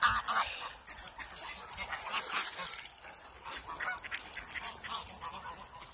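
Geese being fed make scattered honks over noisy outdoor ambience, with a sharp, louder call near the middle. The calls are irregular and moderately close, with no talking.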